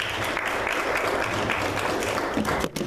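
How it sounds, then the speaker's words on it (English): A round of applause for Harry Underwood at an AIDS candlelight vigil, a crowd clapping steadily and evenly, fairly loud, tapering off abruptly near the end. "Let's give him a round of applause."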